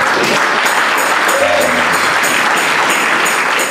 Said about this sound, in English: I want to applaud her